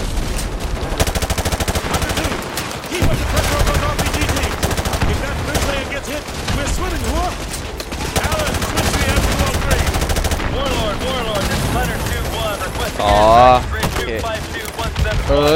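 Dense, continuous automatic gunfire and rapid bursts from Call of Duty: Modern Warfare 2 Remastered, loud and sustained throughout with overlapping shots and a few sharper effects near the end.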